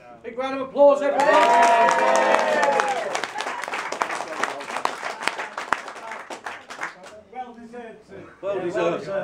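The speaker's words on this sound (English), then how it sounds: "Big round of applause, everyone." Outdoor rally crowd in Manchester breaks into loud applause and cheering after a voice calls out. The clapping is dense at first, then thins into scattered claps under talking, and speech returns at the close.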